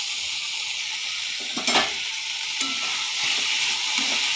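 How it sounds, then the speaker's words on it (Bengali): Bitter gourd and potato stir-fried with Kashmiri chilli powder, a constant bright sizzle in the pan with a couple of clear spatula scrapes against the metal around the middle. "একটু লাল লাল করে ভাজতে হবে উচ্ছেটা আর আলুটা দিয়ে"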